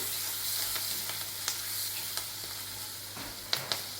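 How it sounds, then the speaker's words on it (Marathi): Green chilies sautéing in a hot pan, a continuous close sizzle with a few sharp scraping stirs toward the end. "आता टाकूया आपण हिरवी मिरची व्यवस्थित परतून घेऊया"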